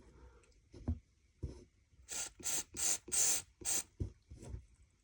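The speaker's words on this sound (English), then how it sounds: "I'm gonna spray some of this cleaner into there, and you can see it coming out of the front" Cleaner sprayed through a hobby paint sprayer, the liquid running through where the paint cup would sit, heard as a few close, loud hissing bursts of spray separated by short gaps and light handling knocks.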